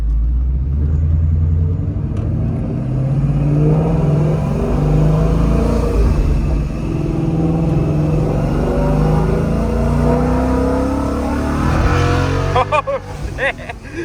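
A Ford Mustang GT fitted with a Paxton supercharger rumbles and revs nearby, engine tone rising and falling in surges, with people talking over it.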